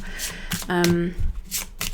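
A deck of tarot cards shuffled by hand in brief, close papery riffling bursts, with a sustained humming voice rising briefly over the middle.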